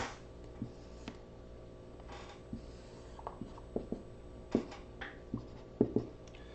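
A pen or marker scratching out a graph of an exponential function by hand, with quiet faint strokes at first and then a run of sharper, irregular taps and scrapes, with no talk.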